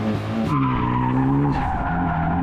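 A 1988 Fox body Mustang with a 2-liter EcoBoost engine spins its tires, a loud, continuous squeal over a straining engine note whose pitch steps up through the burst.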